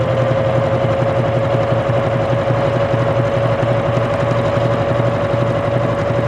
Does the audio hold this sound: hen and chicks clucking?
no